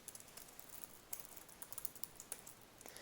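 Faint, quick keystrokes on a computer keyboard as Java code is typed, an uneven run of soft clicks with a few louder taps and no talking.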